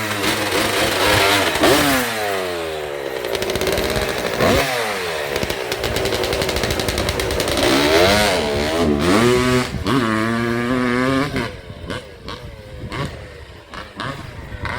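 A Kawasaki KX250 two-stroke dirt bike engine runs loud and close, revving repeatedly with rising and falling pitch sweeps, slightly boggy, then settles to a rougher, quieter idle near the end.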